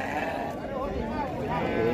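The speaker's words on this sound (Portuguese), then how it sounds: "As ovelhas grandes aqui." Sheep bleat at a sheep and goat livestock fair in Buíque, Pernambuco, wavering cries close by over crowd murmur and talking.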